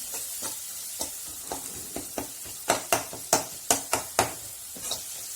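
Masala sizzles in hot oil for a catfish curry, a soft steady frying hiss broken by a run of sharp spoon scrapes and taps against the pan, close and with no voices.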